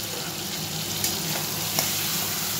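Melted ghee hitting a hot pan for a chal kumro ghonto, a steady close hiss of sizzling with a couple of faint clinks, no speech.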